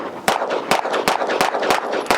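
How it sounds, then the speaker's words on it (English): Six sharp gunshots from a Fowler Vanta 9 ring out in a steady, evenly spaced string, loud and close, with no talking. "All right, Landon, first shots, go for it, bud. With the Vanta 9."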